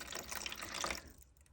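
Water is poured into a mix of Aquacast casting powder, measured at 100 grams of powder to 35 grams of water, making a close, steady trickling splash that stops abruptly near the end.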